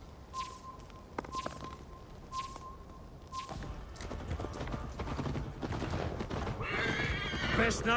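Horse whinnies and neighs in the Assassin's Creed Valhalla video game, several bright calls in the first seconds, then hoofbeats and game ambience swelling louder toward the end, with a voice speaking over it.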